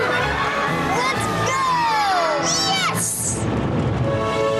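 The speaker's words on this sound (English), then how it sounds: "And the crowd goes wild." Crowd at a baseball game cheering wildly, with high excited shouts and whoops rising over a steady roar of many voices, while a voice also talks.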